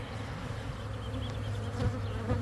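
Carniolan honeybees buzz steadily and close throughout an open-hive inspection in an apiary, a dense continuous drone with slight swells and no talking.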